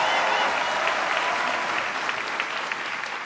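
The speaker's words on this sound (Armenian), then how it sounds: "ձեր ծափահարությունները չեն դադարում" Studio audience applause from an Armenian evening talk show, a dense, steady wash of many hands clapping that fills the room and holds loud throughout with no voices on top.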